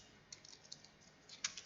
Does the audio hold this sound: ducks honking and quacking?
no